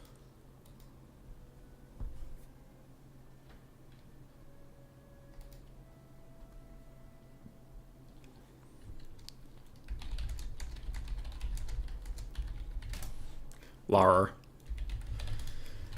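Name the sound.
typing on a computer keyboard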